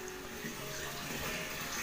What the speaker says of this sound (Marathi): पाण्याचा आवाज घ्या